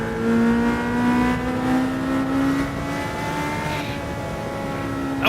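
Mazda 787B race car in Gran Turismo Sport at Le Mans, its engine held flat out with a loud, steady, high-pitched howl that climbs gradually in pitch through the gear, close and continuous with no talk.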